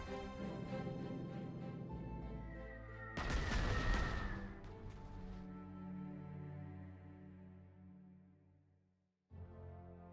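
A carpet bomber's strike in a WWII strategy video game lands as a burst of heavy explosions over a looping music track, a dense rumbling blast lasting a couple of seconds before the score carries on and briefly cuts out.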